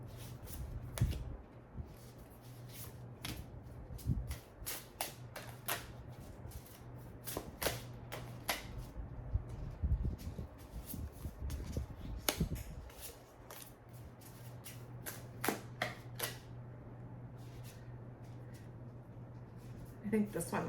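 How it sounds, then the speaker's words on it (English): Tarot cards being shuffled and picked from the deck, giving soft riffling flicks and crisp snaps scattered through the stretch while a voice talks over them. "So I'm going to pick 6 tarot cards for you."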